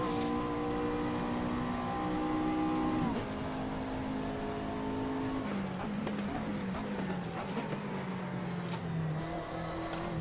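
In the Assetto Corsa racing game, a BMW M3 race car's engine holds a steady high drone, drops pitch on each gearshift and then bogs lower with rough noise.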